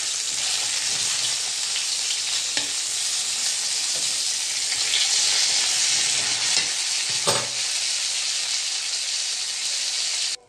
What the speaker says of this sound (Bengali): কম তেলে তো অবশ্যই, বাবা জ্যান্ত মাছ তো